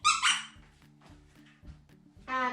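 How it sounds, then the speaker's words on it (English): Squeaky plush elephant dog toy squeezed at close range: a few sharp, high squeaks at the start and end, with faint rhythmic background thumps between. "this squeaky elephant"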